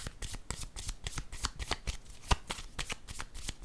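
A deck of playing cards shuffled for a tarot-style reading, a rapid run of crisp riffling and snapping flicks in steady rhythm, close-up with one sharper slap partway through, no voices.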